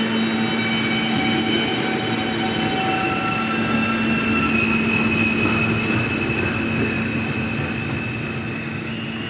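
A Coney Island-bound D subway train passes on the 5th Avenue Lines at Fairview Avenue, a loud continuous rumble of wheels on rail with steady high squealing tones throughout.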